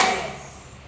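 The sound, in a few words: hand clapping in a clap game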